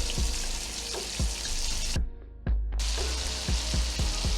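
Onions dropped into rendered fat for Southern collard greens, a soft continuous sizzle broken by several sharp taps and scrapes of a utensil against the pot, with a brief near-silent gap partway through.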